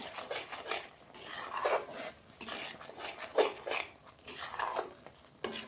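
A utensil works ghee into a dish in a pot, making repeated soft scraping and clinking strokes that rise and fall in an uneven rhythm at close range, with no voices.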